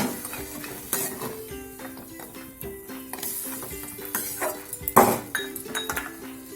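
Bori lentil dumplings going into a pan for an eggplant curry, with metal utensils clinking and stirring against the pan over a soft sizzle, one sharper clatter midway; nearby and moderately loud, no talk.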